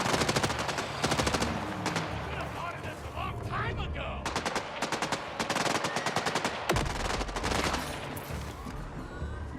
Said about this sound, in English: So they're all out here shooting at me.